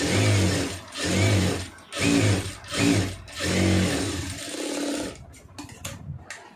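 A sewing machine stitches a folded quarter-inch hem along a lined blouse neckline in repeated short, whirring runs separated by brief pauses, ending with a few softer, scattered clicks.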